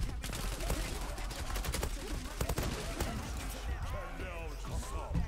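Rapid gunfire bursts from the Zula online shooter game ring out densely throughout, with sharp repeated shots layered over continuous game noise while a player talks excitedly.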